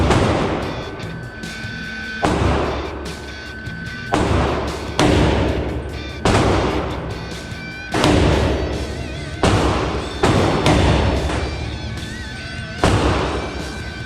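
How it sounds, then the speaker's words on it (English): Repeated pistol shots from an IAI AutoMag III fired at 20 yards on a range, about eight loud sharp bangs spaced one to two seconds apart, each trailing off in a short echoing decay. "So, this is the second series of shots at 20 yards."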